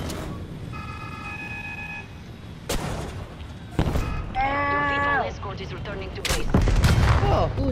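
Gunfire in the video game Call of Duty Black Ops Cold War on the Crossroads map, sharp close shots and bursts scattered through game effects and interface tones.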